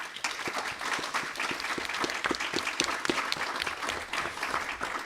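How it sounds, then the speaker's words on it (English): Audience applause for book panellists at an evening literary event, a sustained patter of many hands clapping at moderate loudness from a seated crowd, steady the whole time. "Maybe give them a round of applause."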